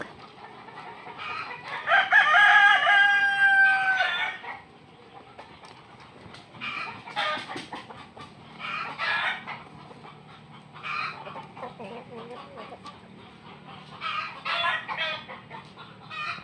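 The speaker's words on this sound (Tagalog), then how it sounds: "Check tayo kung may itlog ang ating mga Rhode Island na manok." Rhode Island chickens cluck and squawk in short bursts, with one loud crow-like call near the start, amid a busy farmyard with faint background noise.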